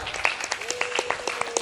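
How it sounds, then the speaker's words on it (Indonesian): A group at an Islamic boarding school creative competition claps for one of the teams, a brief burst of dense, crisp applause from a crowd, with a voice faintly present underneath. "tepuk tangan untuk kelompok 5"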